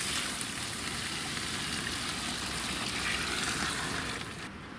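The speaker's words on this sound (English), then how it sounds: "fill up the water pan" Water pours steadily into the water pan of a smoker set up for baby back ribs, a continuous rushing, splashing gush that holds evenly and then tapers off at the end.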